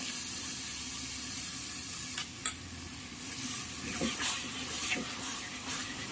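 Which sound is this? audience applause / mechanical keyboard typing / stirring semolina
stirring semolina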